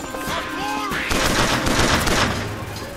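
Loud gunshots from the player's weapon in a video game, a sustained run of close shots ringing out with no talking over them.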